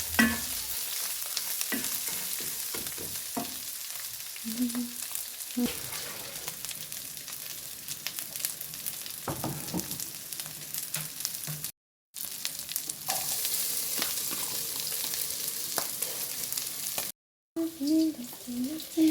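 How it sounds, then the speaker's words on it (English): Onions and tomatoes frying in oil in a rural Kenyan kitchen, a close crackling sizzle with intermittent stirring clatter and a few short breaks in the sound. "remain with some oil that will help me cook now the onions and the tomatoes"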